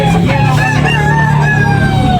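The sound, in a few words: rooster crowing at a chicken sale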